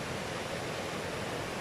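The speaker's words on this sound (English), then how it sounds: "You obviously got the rushing of the water" Continuous rushing water of a Welsh river, a steady broadband roar that holds level and close throughout with no other sounds on top.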